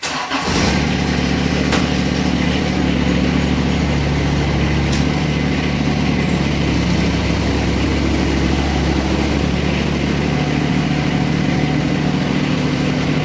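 A John Deere X758 lawn tractor engine starts and then idles, running as a loud, steady, close drone that stays level for several seconds after a brief cranking start.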